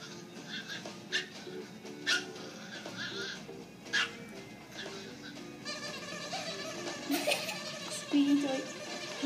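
A dog yips and whimpers in short bursts over a busy background of music and chatter, with a few sharper barks standing out.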